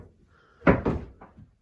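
An old door in an abandoned farmhouse being pulled open, a close wooden knock and scrape followed by a second thud and a fainter creak, alone in a quiet room.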